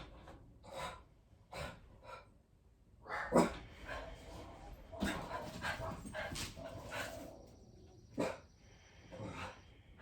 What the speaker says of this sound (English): I'm going to close the door to avoid the dogs barking